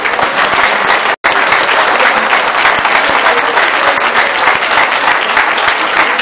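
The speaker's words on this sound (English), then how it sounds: "that one was like when 20 people are clapping. And we are more than 20." Loud, dense clapping from an audience at an inaugural lecture at Michael Otedola College of Primary Education, continuous throughout with one abrupt momentary dropout near the start, no talking over it.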